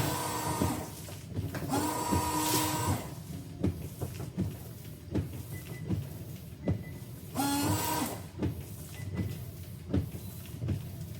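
Washer sprayers on a Porsche 991 after repair: two strong bursts of hissing spray, each about a second long, with pump whine and clicks, heard close under a background of mechanical noise.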